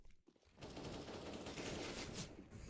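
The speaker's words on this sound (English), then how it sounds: "It was the SMGs in play there." Rapid SMG gunfire in a Counter-Strike match, a dense, continuous burst of shots that starts abruptly after a brief lull and carries on steadily to the end.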